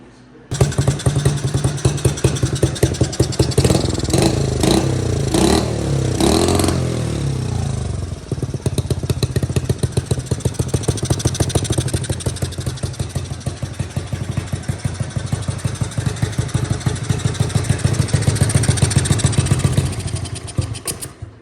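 Engine of a TC70 motorbike running steadily while ridden, a loud continuous buzzy drone with brief revving near the start, holding fairly even throughout.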